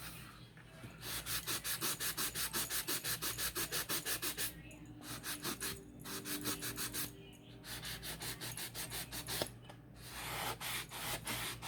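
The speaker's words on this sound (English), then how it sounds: "I'm just gonna give it a little bit more sanding around it" Rhythmic back-and-forth sandpaper scraping as paint is sanded off a surface, fast steady strokes with a few short pauses, close by.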